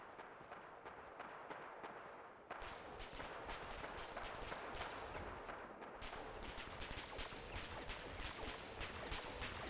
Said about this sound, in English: Towards the gunfire again.